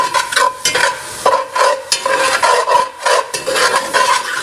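A flat spoon stirs pork and gravy for Cajun rice and gravy and scrapes the bottom of the pot in steady, repeated strokes, loud and close over a gentle sizzle.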